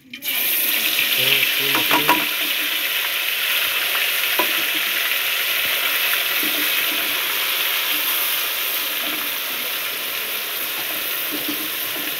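Ground spice paste frying in a pan for crab curry, a strong steady sizzle that begins abruptly with a few early clatters of stirring, then settles into an even hiss, near and with no talk.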